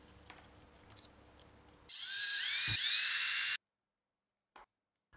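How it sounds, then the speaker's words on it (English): A power screwdriver drives a screw into a wooden board while components are mounted, a rising whir lasting under two seconds with a small knock partway, then silence broken by a couple of brief clicks. "I began mounting all the elements with simple screws"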